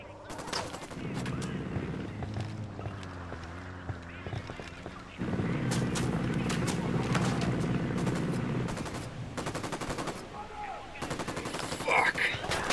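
Gunfire in Ghost Recon Wildlands: rapid automatic bursts and single cracks rattle near and loud over ongoing battle noise and footsteps, with a voice shouting through the fight.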